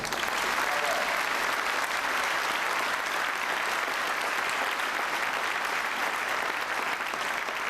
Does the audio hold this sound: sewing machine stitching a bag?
no